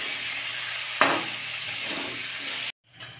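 Paneer pieces frying in hot oil in a pan, a steady close sizzle with a sharp stir or clatter near the start, then the sizzle cuts out abruptly before a faint return.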